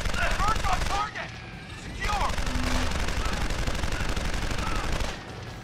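Sustained minigun fire rattles in Deus Ex: Human Revolution, a dense mechanical roar running through the stretch with brief dips, mixed with other game noise and ambient combat.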